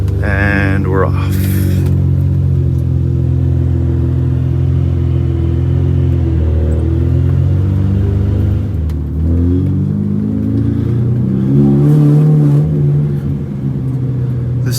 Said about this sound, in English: The sound of this V12 is just so intoxicating.